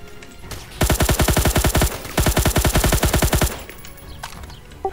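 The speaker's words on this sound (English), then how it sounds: "Hey, I fired and sprayed and I got him." Two rapid bursts of automatic gunfire from a Roblox shooter game set at a space force base, each a fast string of sharp, loud, evenly spaced shots, separated by a brief gap, with no talk over them.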